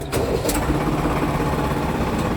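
A Case JX65 tractor's diesel engine turns over and catches, then runs at a steady low idle with a constant rumble, loud and close throughout.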